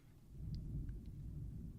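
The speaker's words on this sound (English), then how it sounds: "That's the thunder." Distant thunder rumbles low and steady during a storm in Dallas, Texas, a soft continuous roll lasting a couple of seconds with faint higher blips above it and no talking.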